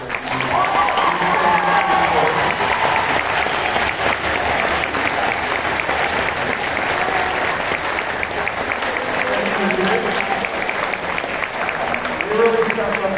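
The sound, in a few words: audience applause for marching band leaders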